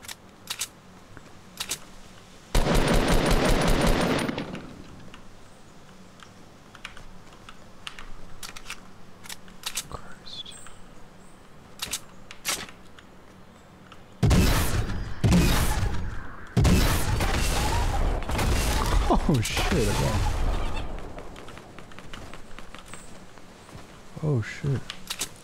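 Fortnite gunfire comes in loud, dense bursts of rapid shots, separated by quieter stretches of scattered clicks and taps.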